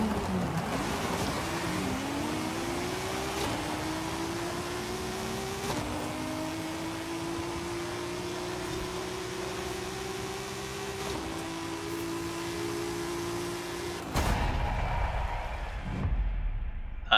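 Datsun 240Z with a drag tune in Forza Horizon 5 at full throttle, a loud engine howl climbing through several gear changes in a steady drone, then cutting off near the end.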